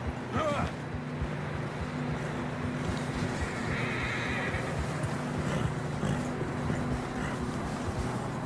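A horse in the video game Red Dead Redemption 2 lets out a clear neigh near the start, followed by a steady rumbling ambient bed and faint hoof clatter.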